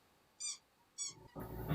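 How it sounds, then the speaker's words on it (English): A dog squeezes a squeaky toy in another room, giving two short, bright squeaks about half a second apart and then a louder burst of noise at the end. "Sorry about my dog that's squeaking her toy in the other room."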